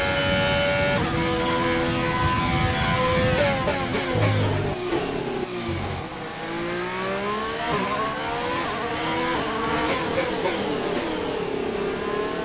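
A Haas F1 car in the F1 2020 game on the Baku circuit revs hard through the gears, loud whining engine notes climbing and dropping with each shift, a brief lull mid-run before accelerating again.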